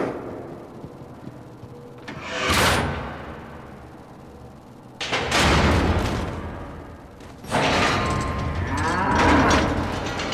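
Cattle mooing in the video game Cryostasis: three long, loud lowing calls, each swelling and fading, spaced a few seconds apart over quiet ambient background.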